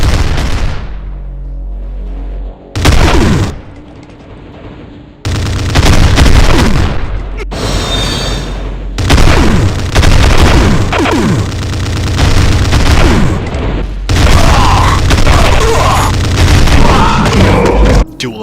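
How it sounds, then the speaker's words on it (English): Dual explosive miniguns in a Doom mod blast out dense, very loud bursts of rapid fire and booming explosions, coming in repeated waves with only short gaps between them. "dual explosive miniguns"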